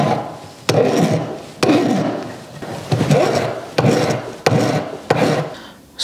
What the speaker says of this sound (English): That's it, time to file.